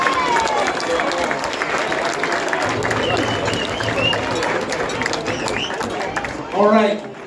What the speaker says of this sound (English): let's have a big round of applause for those three outstanding young men